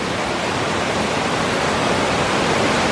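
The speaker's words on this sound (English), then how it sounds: "And that is the very top of the multiple cascades that make up the waterfalls of the Cloister at Three Creeks Valley." Waterfall cascades at the top of a series of falls at the Cloister in Three Creeks Valley in spring, a loud, steady broadband rush of falling water that fills the whole clip without a break.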